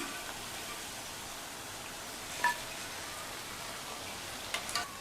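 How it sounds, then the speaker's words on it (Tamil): Rava pakoda frying in hot oil, a steady soft sizzle and crackle that holds evenly throughout, with a couple of brief louder pops and clinks partway through and near the end. "மீதி உள்ள மாவையும் இதே மாதிரி எண்ணெயில் போட்டு எடுத்துடலாம்."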